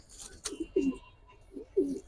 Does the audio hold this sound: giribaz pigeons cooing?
yes